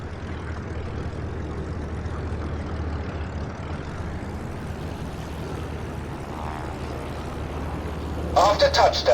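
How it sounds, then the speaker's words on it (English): A propeller warplane engine from the Birds of Steel video game, a pre-war 1941 training flight, drones steadily and loudly as the plane descends to land, with a brief higher-pitched burst near the end. "My plane is losing speed and descending."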